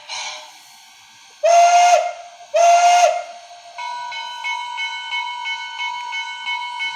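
A model PRR I1sa steam locomotive with a TCS WOW sound decoder gives two loud, sharp steam whistle blasts over a steady hiss, then settles into rhythmic chuffing with a faint ringing tone.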